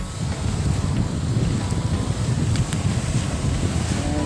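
Strong wind blows steadily across a natural beach, a loud, continuous roar of gusts buffeting the microphone with a surf-like rumble beneath, no voices.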